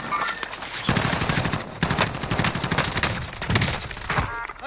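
Dense, rapid automatic gunfire from a Call of Duty Warzone match, loud and continuous bursts layered over one another with sharp repeated cracks throughout.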